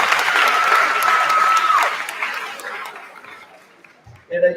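Applause from an audience at an 8th grade promotion ceremony, strong at first and then thinning out, with a steady tone briefly sounding through it and a voice starting at the very end.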